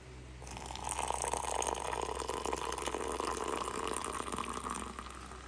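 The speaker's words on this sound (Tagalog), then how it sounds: "Ta ngayon, lalagyan natin siya ng tubig." Hot water poured into a cup of creamy coffee mix, a steady liquid pour with a continuous splashing fill that runs for several seconds, fairly close and with no talking over it.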